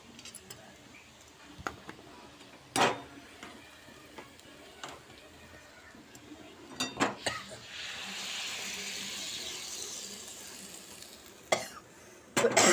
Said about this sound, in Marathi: ती फोडणी आता मी भाजीत घालणार आहे